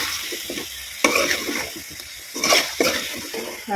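Chicken sautéing with masala, chili powder and salt in a pan, sizzling steadily while a spoon stirs and scrapes in bursts, close up and without talk.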